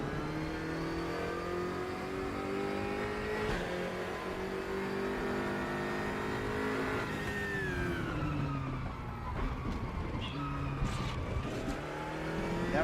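Simulated race car engine in RaceRoom rising and dropping in pitch through gear changes and braking for a chicane, a continuous high whine with tyre scrub, steady and close.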